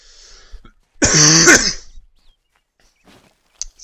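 One loud, harsh close cough, followed by quiet near-silence with faint scattered noises.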